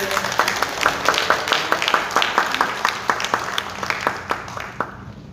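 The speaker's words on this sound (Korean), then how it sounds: "박수 한번 쳐주세요" A church congregation at a Sunday service claps in a sparse, steady patter of individual hand claps that fades toward the end, with faint voices underneath.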